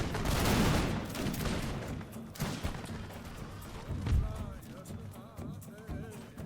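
Volleys of musket fire ring out across a battlefield in an American Revolution strategy game, crackling in ragged bursts that fade into scattered shots over a constant din of battle.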